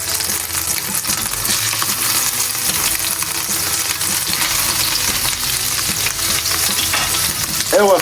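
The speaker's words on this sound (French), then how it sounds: "Et là, on va mettre nos steaks." Steaks searing in a pan of hot olive oil and melted butter give a loud, steady frying sizzle with crackling spits throughout, no voices over it.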